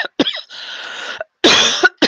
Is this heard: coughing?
yes